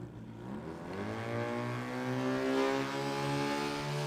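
A burnout car engine at a street-machine jamboree revs up through the gears, its pitch climbing and falling in steady rises, loud and sustained with no voices.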